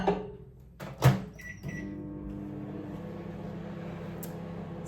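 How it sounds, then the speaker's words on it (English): A steady low electrical hum of a running microwave oven heating fudge ingredients, continuous after a couple of brief clunks at the start. "Then goes in the microwave for a minute."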